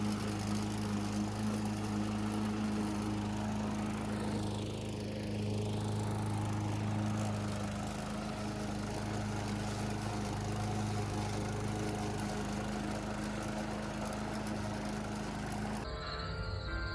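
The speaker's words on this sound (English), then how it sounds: "Finished mowing, got that looking good." A lawn mower engine drones steadily while cutting grass in a backyard after rain, loud and continuous for most of the stretch, then cuts off abruptly near the end.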